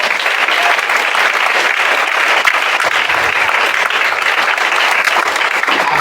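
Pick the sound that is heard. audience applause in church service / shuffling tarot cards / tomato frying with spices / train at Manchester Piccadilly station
audience applause in church service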